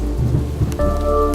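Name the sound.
thunderstorm with rain and thunder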